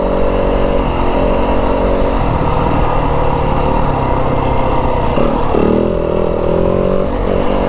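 A Yamaha WR250F dirt bike (2025 model) holds steady in third gear on an Arizona desert trail, its single-cylinder engine droning loud and close throughout with a brief throttle change near the end.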